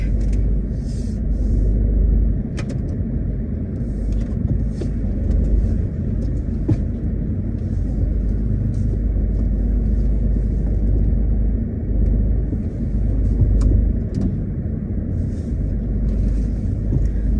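Steady low engine rumble and road noise from inside a moving car on its final drive, continuous and fairly loud throughout with no talking.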